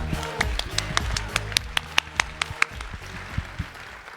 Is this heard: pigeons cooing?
no